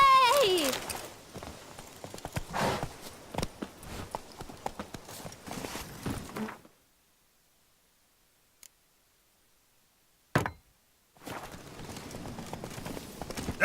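The horse Roach from The Witcher 3: Blood and Wine DLC makes rhythmic clip-clop hoofbeats that run steadily for several seconds under game ambience. A pause of near silence with one sharp click follows, then the hoofbeats return.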